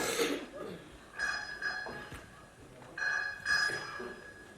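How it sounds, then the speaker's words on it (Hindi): A telephone rings in two separate bursts of a bright, trilling bell tone, fairly close and clear, with a short noisy rustle at the start and quiet room sound between the rings. "एक मिनट, मेरा फोन आया।"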